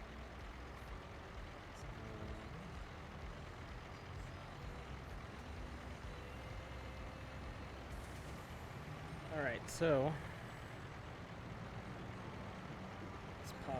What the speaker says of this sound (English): let's pause this so we don't have this truck noise